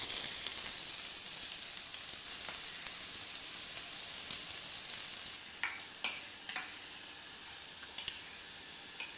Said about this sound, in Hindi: घी गरम होने के बाद अब हम डालेंगे इसमें प्याज और उसे एक मिनट पका लेंगे।